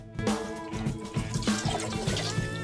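Coca-Cola being poured from a bottle into a toilet bowl, a steady liquid splashing and trickling close by throughout.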